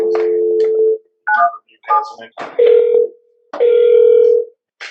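A phone call being placed from a courtroom, with steady ringback tones sounding in long repeated bursts separated by gaps; short electronic dial beeps and brief voices come through between the rings.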